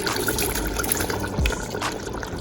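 Water pours into a cooking pot of boiled beans for a Jamaican dish, giving a steady, full splashing rush that stays loud and even from start to finish, with no voices.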